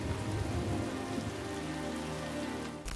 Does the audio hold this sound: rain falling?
yes